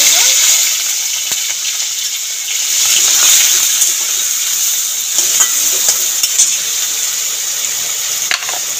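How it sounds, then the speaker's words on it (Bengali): Washed shrimp dropped into hot oil in a pan, sizzling loudly and steadily with bright crackling spatter and a few clinks from stirring. "ধোয়া চিংড়ি মাছটা গরম তেলের মধ্যে দিয়ে দেব।"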